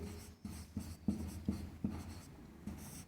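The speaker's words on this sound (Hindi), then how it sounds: "तो यहाँ लिखेंगे यूक्लिड" Chalk or marker strokes on a board during a maths lesson, a series of short scratchy taps and scrapes in an irregular rhythm, close and moderately loud.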